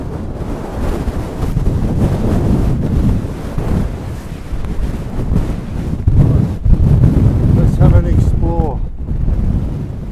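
Strong gusts of wind on a Northumberland cliff edge roar and buffet the microphone continuously, rising and falling in loud surges.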